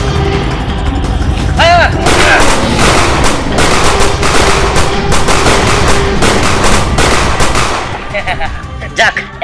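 Loud, sustained gunfire in a staged battle against a dragon, with rapid bursts of shots over a dense, roaring background and a brief voice near the end.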